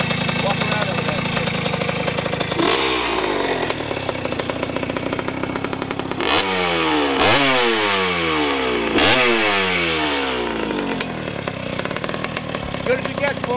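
A 1974 Hodaka Super Combat two-stroke motorcycle idles with a buzzy rattle, then gets blipped through several sharp revs that rise and fall, loud and close.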